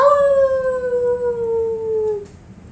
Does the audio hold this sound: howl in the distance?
yes